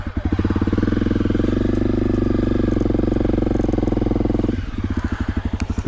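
Honda CRF250L dual-sport motorcycle engine rumbling steadily at low revs while the rider turns around on an alpine track, then dropping to an uneven, chugging idle near the end.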